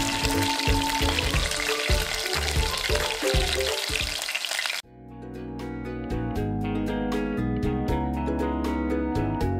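Chicken breast sizzles loudly in hot oil during a second fry, a dense crackle that cuts off sharply midway, leaving quieter kitchen sounds.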